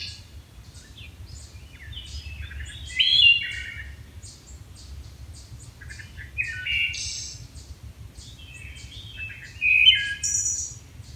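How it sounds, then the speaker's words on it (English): Birdsong in a wooded area: varied chirps and warbled phrases from birds at moderate distance over a low steady background hum, with two louder bursts of song. "just thought you might like to hear some bird song."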